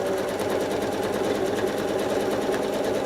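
A sewing machine stitches steadily during free-motion quilting of large pebble circles, its needle clatter forming a fast, even, continuous mechanical rhythm with no talking.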